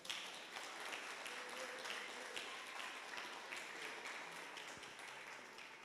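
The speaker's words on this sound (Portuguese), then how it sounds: "Se você quer, aplauda o Senhor Jesus bem forte." A church congregation applauds for Jesus, a steady wash of many hands clapping heard at a distance and fairly quiet, continuing throughout without speech.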